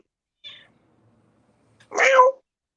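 A cat gives a brief soft chirp, then a louder, clear meow a moment later. Both sounds are close, with silence around them.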